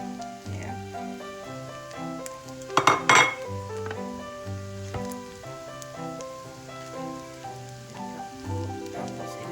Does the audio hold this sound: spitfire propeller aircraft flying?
no